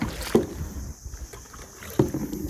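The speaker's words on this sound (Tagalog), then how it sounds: "Bangka." A small boat moves across the water at El Nido, Palawan, with wind buffeting the microphone and two sharp knocks or splashes against the hull.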